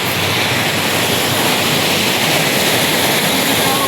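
Sea waves at a bayside beach in Infanta, Quezon, a constant, dense wash of surf filling the air at even loudness throughout, with wind and no clear voices.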